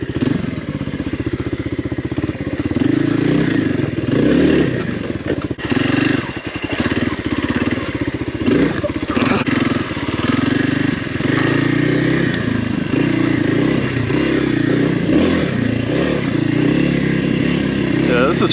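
Kawasaki KLX 300R motorcycle with a 14/47 rear sprocket riding in first gear, its engine a close, uneven drone that rises and falls with the throttle, accompanied by clattering and wind.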